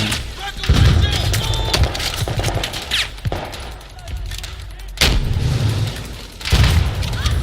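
Repeated heavy booms of rocket launcher explosions in Battlefield 4, several loud blasts spaced a couple of seconds apart, with rumbling tails and scattered crackle between them.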